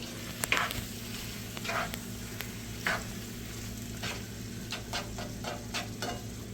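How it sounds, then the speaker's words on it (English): Enchilada filling cooks in a pan with a soft, steady sizzle broken by several brief stirring scrapes and clatters, close and moderately quiet, with a low hum running underneath and no voices. "this sounds like it's really cooking"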